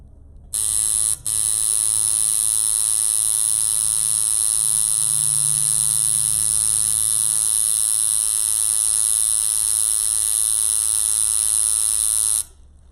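Anthony King coil tattoo machine running with a steady, loud electric buzz that holds constant for about eleven seconds, starting after a brief stutter and stopping abruptly.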